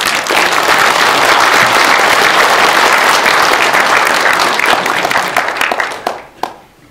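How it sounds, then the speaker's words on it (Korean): A lecture audience breaks into loud, dense applause, a full crowd clapping steadily before it thins out into a few scattered claps and stops. "자축하는 의미에서 박수 한번"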